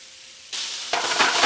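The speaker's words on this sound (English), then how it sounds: "Go ahead and add that into your gnocchi, which is sauteing in your pan." Gnocchi sautéing in a pan as sauce is added: a brief hiss that jumps louder partway through and swells into a bright, steady sizzle, close up and with no voices.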